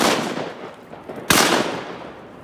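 Shotgun blasts during a duck hunt for mallards on a cold, windy day: a loud close report at the start with a decaying tail, then a second sharp blast just past the midpoint, each fading into outdoor noise.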